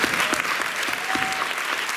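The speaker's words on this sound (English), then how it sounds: "I would like everyone to clap for them" An audience at a teen mental health summit claps for presenters, a sustained, evenly dense applause with some crisper individual claps near the front and a faint voice beneath.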